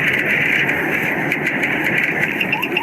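A Seattle police car's engine roars steadily and loudly as the vehicle accelerates, a constant dense drone recorded close by from inside the car on a body camera.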